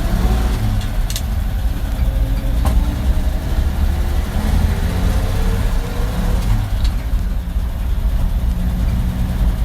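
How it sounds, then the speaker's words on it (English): A 1953 Chevy truck engine, warmed to about running temperature with the choke in, runs loud and steady with a deep continuous rumble throughout, no pauses or voices. "this is a takeoff with the choke in, and the engine's just at about running temperature now, and I'm just gonna run up here a little bit"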